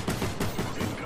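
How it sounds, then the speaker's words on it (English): Rapid gunfire in Call of Duty Ghosts team deathmatch, a quick series of about four or five sharp shots in a short burst, moderately loud. "They're shooting."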